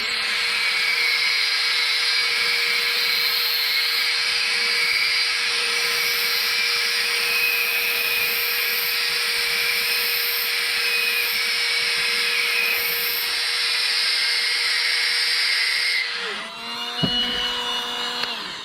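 A rotary tool fitted with a KAYBOBEZK tungsten grinder head grinds steadily and loudly at close range with a sustained high-pitched whine, then slows and stops near the end.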